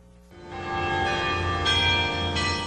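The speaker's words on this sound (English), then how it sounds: "Jefferson is known for its famous bell tower in the courthouse square" A courthouse bell tower bell in a town square tolls with a loud, sustained ringing that swells in and keeps resonating, with no talk over it.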